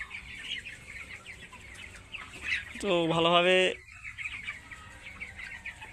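Nineteen-day-old broiler chickens in a poultry shed cluck and murmur in a steady background chorus, one louder drawn-out call rising near the middle, while someone speaks briefly over them.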